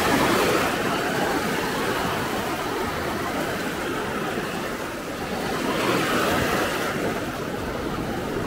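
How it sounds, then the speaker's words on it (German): Sea waves at the beach in Maspalomas, Gran Canaria, a continuous rushing surf with gentle swells and a broad windy wash, fairly loud and steady, with no talking. "ich hatte eigentlich ein bisschen mehr Wellen erwartet, aber vielleicht kommen sie ja heute noch da"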